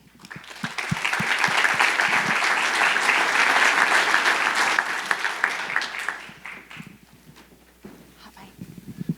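Sustained applause from a conference audience at the 2019 RESO Fall Conference, welcoming Jeremy Crawford onstage. The clapping builds quickly and holds dense and loud for about six seconds, then thins to scattered claps and murmurs.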